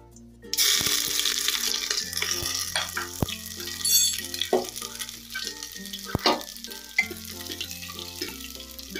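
Loud sizzling and crackling as ginger-garlic paste hits hot oil with cumin in a pan, starting suddenly and spitting on, with a few metal clinks and stirring scrapes close by.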